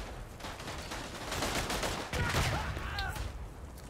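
Bolt-action rifle fire in the World War One shooter Verdun, a dense distant crackle of many shots merging into a continuous battlefield rumble, with one sharper nearer report partway through.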